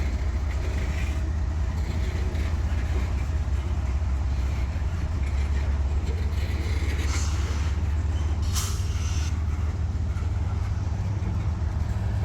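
A long freight train led by 8,800 horsepower of locomotives pulls out of a siding, giving a steady, broad rumble and rolling noise with a couple of brief hisses, heard from a moderate distance.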